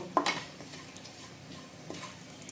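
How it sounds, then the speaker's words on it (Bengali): Cloves, mace and black pepper fry briefly in oil in a pan for a chicken curry, a soft sizzle under a few sharp clinks of spoon against metal near the start and a quieter scrape later. "এখন এটা পনেরো থেকে বিশ সেকেন্ডের জন্য ভালো করে একবার ভেজে নিব"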